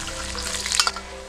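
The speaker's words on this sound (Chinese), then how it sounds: "把佐料放进去呢，火一定要小，慢慢的把这个佐料煸香。" Ginger, garlic, bay leaf, star anise and dried chili sizzle in oil over low heat, a steady close frying hiss with a brief burst of stirring scrapes near the middle.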